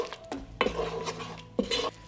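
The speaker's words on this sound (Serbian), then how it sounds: "Promešat ću par sekundi na nižoj temperaturi." Ground Hungarian red paprika being stirred in a pot over low heat, a few short scraping strokes of a spoon against metal, close and fairly quiet, with no talking.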